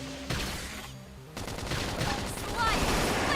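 Bursts of rapid gunfire ring out in a Xenoblade Chronicles X battle, dense crackling volleys amid game effects and combat sounds, loud and sustained through the moment.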